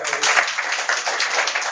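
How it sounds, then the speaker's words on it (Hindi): An audience at a devotional satsang gathering in a home claps steadily, a brief, even patter of many hands that fades softly toward the end. "ताली बजा।"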